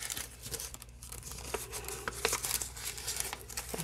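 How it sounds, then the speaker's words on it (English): A paper envelope being cut up for a journal, with close crinkling, rustling and small snipping and tearing noises over a steady low hum, no talking. "I can cut up an envelope."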